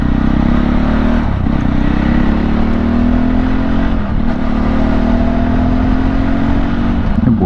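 A motorcycle engine hums steadily with wind rush as it rides along, pitch rising and falling slightly with gear changes.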